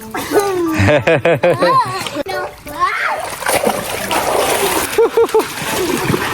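Children splashing water in a village swimming pool, with repeated close splashes mixed with children's voices, laughter and an adult talking throughout.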